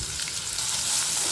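Sliced onions sautéing in a pan for a soya gravy, giving a steady, close sizzle with constant hiss and no talk over it.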